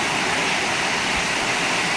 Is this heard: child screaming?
no